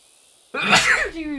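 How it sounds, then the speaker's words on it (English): A single loud, close human sneeze erupts after a moment of near silence, a sharp burst followed by a breathy vocal trail. "Oh, I gotta sneeze."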